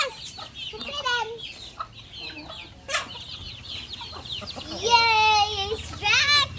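A chicken clucks and squawks in bursts close by, with a child and adults chattering and exclaiming around it outdoors.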